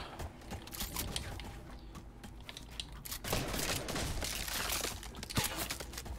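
Rapid bursts of video game gunfire crackle in quick clusters, fairly faint and dense, with shots coming from several directions.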